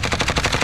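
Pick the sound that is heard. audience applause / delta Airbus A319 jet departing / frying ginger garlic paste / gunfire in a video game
gunfire in a video game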